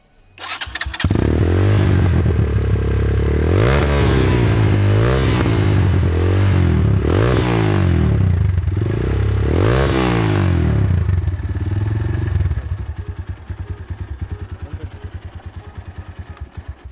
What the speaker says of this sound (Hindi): इस बाइक का स्ट्रोक एग्जॉस्ट की साउंड हम ज़रूर चेक करते हैं अभी